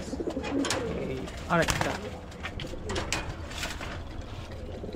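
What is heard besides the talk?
pigeons cooing at Mirpur bird market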